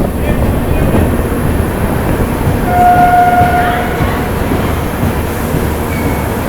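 The Humsafar superfast express from Gorakhpur to Anand Vihar rolls along the rails with a loud, steady rumble of wheels and carriage noise, plus a brief thin squeal midway.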